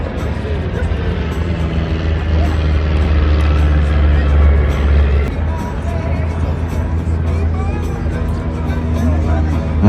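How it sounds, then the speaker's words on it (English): A vintage de Havilland Chipmunk light aircraft drones steadily at an airshow as it pulls up to gain height, its engine rumble swelling slightly mid-flight beneath a constant crowd babble and commentary. "pulling the aircraft up, getting a little bit of height"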